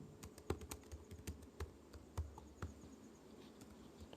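Keys clatter on a computer keyboard while HTML code is entered, a burst of quick, uneven close taps with a few sharper strokes standing out, alone and fairly quiet.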